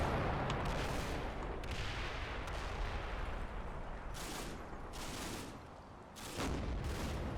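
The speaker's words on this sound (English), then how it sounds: "We got some MG fire and things from these buildings over here" Machine gun fire rattles from buildings in a war video game: repeated sharp bursts and booming shots over a constant rumble, with a brief lull near the end before the firing resumes.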